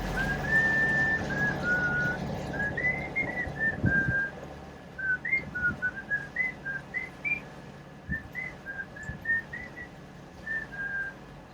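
A person whistles a wandering melody, long held notes at first, then short chirpy phrases, fairly close against a low background rumble.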